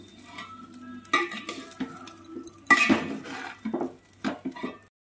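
Vegetable rice being stirred and mixed in a pan: a close spatula scrapes and clinks against the metal in irregular strokes over a light sizzle, with no talking.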